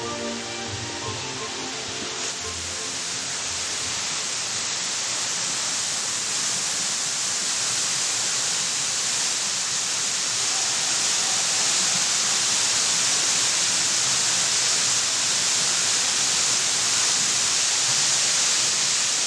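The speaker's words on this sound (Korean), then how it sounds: "바위 틈으로 힘차게 물을 쏟아내는 두 개의 폭포" Two waterfalls in Mureung Valley pour water forcefully through rock crevices, a steady, loud broadband roar of rushing water that swells slightly and holds constant throughout, with no voices.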